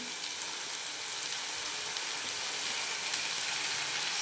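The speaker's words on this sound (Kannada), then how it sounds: "ಸ್ವಲ್ಪ ಫ್ರೈ ಮಾಡಿ ಟೊಮೊಟೊ." Tomatoes fry with turmeric in a pan, giving a steady, even crackling sizzle like light rain. It runs unbroken for a few seconds, close and moderately loud, with no talking.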